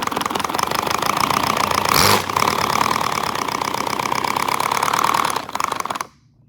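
A small 70cc four-cylinder boxer engine with dual exhaust runs at a steady high buzz, loud and close, with a brief dip near the middle before cutting off abruptly at the end.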